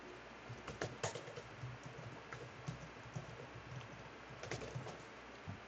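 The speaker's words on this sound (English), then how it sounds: "Because I have to type google.com, like I'm old." Someone types on a computer keyboard in a quiet room: soft, uneven key clicks in short bursts, faint and close.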